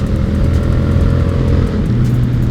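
A Yamaha XSR 700 Legacy motorcycle being ridden, its engine a loud, steady low drone with a strong humming tone, holding even throughout with a slight pitch shift near the end, no voices.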